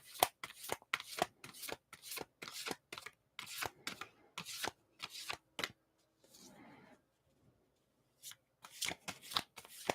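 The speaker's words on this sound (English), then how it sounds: "These are really big cards. So they're kind of tricky to shuffle." Large oracle cards being shuffled in a series of quick, crisp riffling bursts, close and fairly quiet, with a brief softer rustle in the middle and a pause before the shuffling resumes.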